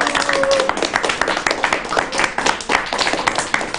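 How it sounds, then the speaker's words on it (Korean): Group of schoolchildren applauding together at a traditional New Year kite-making and top-spinning event in a Korean hometown, a dense burst of steady clapping lasting throughout. "박수."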